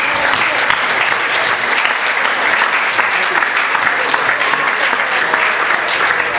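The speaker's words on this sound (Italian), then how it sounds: "e il nostro ministro provinciale Fra Marzio, che lo accogliamo con un applauso." Audience applause at a Capuchin friars' missionary conference in Recanati, steady dense clapping from a seated crowd that holds loud and even throughout.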